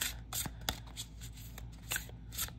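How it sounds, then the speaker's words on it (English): An oracle card deck being shuffled by hand: quiet, crisp riffling bursts and soft flicks of card stock in short irregular runs, close and faint with no talk. "Okay, so we're just gonna give it a little shuffle."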